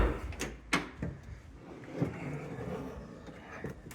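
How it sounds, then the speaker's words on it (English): Rear doors of a 1997 GMC Savana 2500 van swing open, with a few clunks and latch knocks followed by a soft rattle and room noise, quiet and close, no voices. "These back doors are kind of cool because they swing all the way open"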